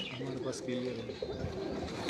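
Pigeons coo in soft, low, throaty calls close by while someone talks over them.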